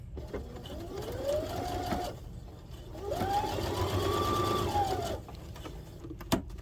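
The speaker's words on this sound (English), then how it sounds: "And we're just going to sew right down here." A sewing machine stitches down the edge of a zipper pouch in two steady runs, a whirring hum that starts and stops, with a short pause between the bursts and a sharp click near the end.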